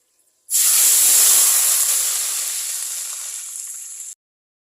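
A loud burst of sizzling as hot oil tempered with browned cumin hits minced meat and potatoes, hissing steadily for about four seconds and slowly fading before cutting off.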